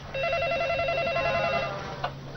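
A telephone rings with a steady warbling electronic trill, fairly loud and continuous, over a low background hum, with a brief click near the end.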